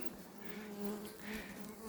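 Bees buzz softly and continuously around a beehive nucleus nearby, a low droning hum that swells and fades slightly without any talking.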